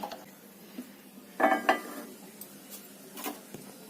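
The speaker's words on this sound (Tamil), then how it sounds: "அடுப்பத்தி கடாய் வச்சிடலாம்." A metal wok set down on a stovetop with a few clanks and scrapes, fairly quiet against faint room noise.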